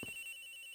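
A telephone rings in the video game Ace Attorney Investigations, a brief, faint, steady electronic ringtone tone with nothing else over it.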